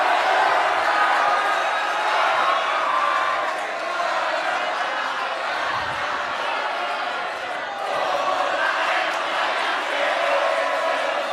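Audience at a West Java governor and vice-governor candidate debate shouting, applauding and chanting, a loud sustained crowd roar with whoops and clapping that dips briefly midway before swelling again.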